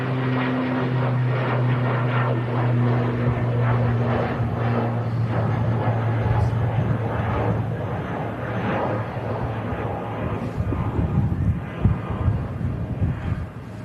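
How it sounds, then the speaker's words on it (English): A small ATR turboprop airliner departs for Dublin with a loud, steady propeller drone and rumbling engine roar that gradually broadens and fades into a rougher wash as it climbs away. "As this little ATR heads out to Dublin."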